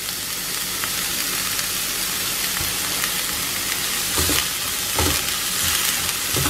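Onions with a pinch of salt sauté in a pan, making a loud, continuous frying sizzle close by, with scraping stirs and a few heavier clatters toward the end.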